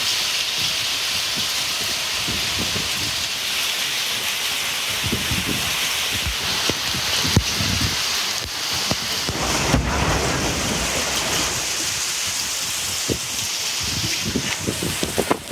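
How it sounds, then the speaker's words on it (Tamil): A hailstorm with strong wind over the Kaveripattinam, Hosur, Shoolagiri and Bagalur areas: a dense, constant roar of ice and rain pelting surfaces, with sharper pattering bursts throughout and no voices. "காவிரிப்பட்டினம், ஓசூர், சூலகிரி, பாகலூர் உள்ளிட்ட பகுதிகளில் ஆலங்கட்டி மழை பெய்தது."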